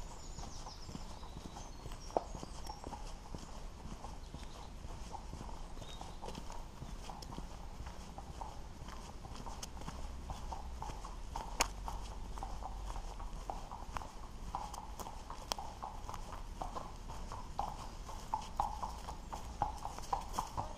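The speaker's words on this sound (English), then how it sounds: "There's the horses." Horses walk along a hillside trail near Rudry, Cardiff, their hooves clip-clopping in a loose, uneven rhythm at close to middle distance, with faint voices and outdoor background noise.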